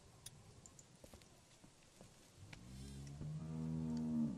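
A single cow moos in The Walking Dead video game, a long low bellow building in the final second and a half after soft shuffling footsteps.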